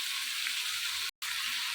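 Blood fry sizzles steadily in a clay pan with green chillies as the watery juices cook off, a dense close crackle that cuts out for a brief moment near the end.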